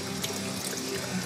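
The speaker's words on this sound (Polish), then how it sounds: "Trzeba troszkę ręce opłukać." Running tap water pours steadily into a kitchen sink as hands are rinsed during home cooking, a continuous close splashing wash with no talk.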